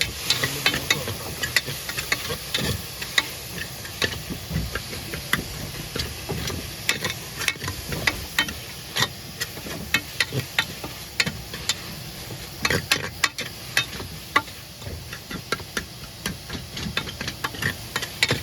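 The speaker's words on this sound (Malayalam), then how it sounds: "ഉള്ളി ചെറുതായിട്ടൊന്ന് മൂത്ത് വന്നിട്ടുണ്ട്" Onions sizzle and fry in a pan for fish curry on a small boat out at sea, a continuous crackling hiss broken by frequent sharp stirring scrapes and clicks throughout, with no talking.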